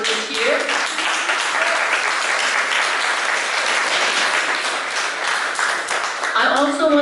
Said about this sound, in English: If you would please stand up and get a round of applause